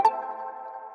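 Layered plucky synth plugins in FL Studio for a happy hardcore remix, one bright plucked chord that strikes sharply and rings out with a sustained, even tail.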